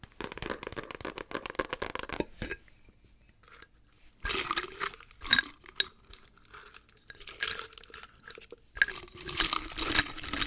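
Gum being unwrapped and chewed up close, with bursts of crinkling wrapper and crunchy mouth sounds separated by quiet pauses, no talking.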